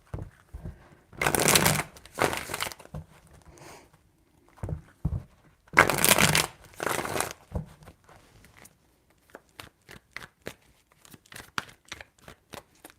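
Tarot cards get shuffled in several bursts of dry riffling, each lasting under a second, separated by quiet gaps and followed by a run of sharp cards tapped or snapped down, close and crisp with no talking.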